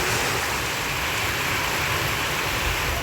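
Heavy summer rain falling in Coonoor in the Nilgiris district, a loud, dense, steady downpour with no pauses and no voices.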